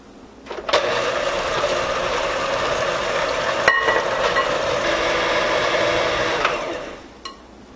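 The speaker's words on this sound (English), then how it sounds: "we're going to turn the mixer on" An electric mixer runs steadily for about six seconds through a thick almond cake batter made with coconut flour, starting abruptly and cutting off near the end, with a brief clatter partway through and no talking.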